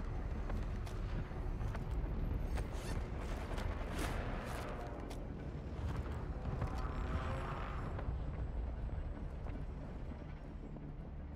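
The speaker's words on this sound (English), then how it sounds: "Friendly airstrike on the way." Airstrike explosions in the video game Call of Duty Warzone 2.0 rumble as a dense, continuous barrage of heavy blasts, loud and sustained, with sharper bursts breaking through the roar.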